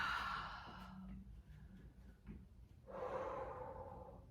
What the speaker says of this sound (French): Avec une expire.